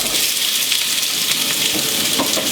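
Onion, garlic and bay leaf sizzle vigorously in oil in a soup pot, a loud, continuous close-up frying hiss with faint crackles and no talking.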